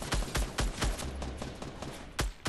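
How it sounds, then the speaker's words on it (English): Gunfire in the video game Fortnite: a rapid series of sharp shots in uneven bursts, fairly quiet and distant in the mix. "Someone's shooting."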